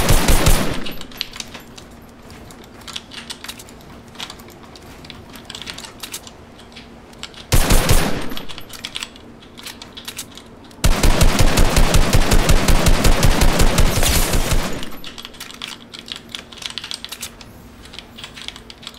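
Video game gunfire comes in bursts of rapid, loud automatic shots, with one short burst and then a long sustained volley. Quieter clicking runs between the bursts.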